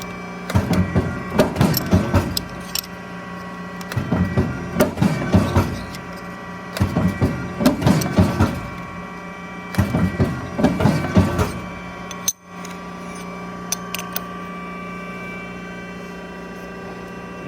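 An Amada CSHW 220 notcher corner radius machine cuts 14 gauge metal, with four evenly spaced loud bursts of whirring and clunking over a constant motor hum, then a sharp clack and quieter running.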